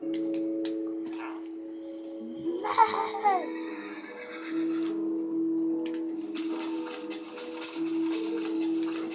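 A horse in the video game Minecraft gives one short whinny partway through, over steady game background tones.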